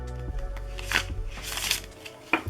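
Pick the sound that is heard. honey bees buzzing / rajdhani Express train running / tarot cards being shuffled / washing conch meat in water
tarot cards being shuffled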